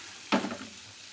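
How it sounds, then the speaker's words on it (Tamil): Large onions sauté in a pan for okra kara kuzhambu: a single close stirring scrape is followed by a soft, fading sizzle. "வெங்காயம் நல்லா வதங்கட்டும்."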